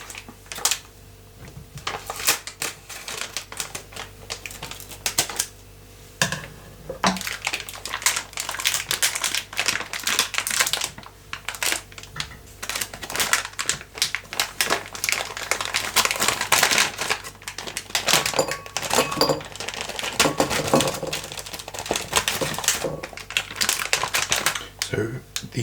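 Scissors snip open a crinkly plastic bag of gummy bears up close in a quiet room, with a steady run of crisp crackles, rustles and small clicking cuts at a soft, intimate level.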